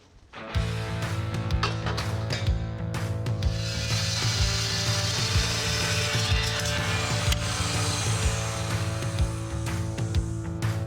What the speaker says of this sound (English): so I just have to go over to the saw and start cutting out some tube